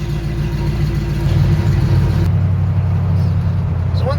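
A warmed-up 1980 Oldsmobile Cutlass 442 engine idles close by with a steady low rumble, shifting to a deeper, smoother tone partway through.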